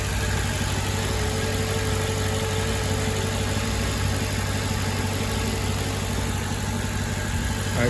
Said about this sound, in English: I'll let this idle for a little bit and then we'll check the level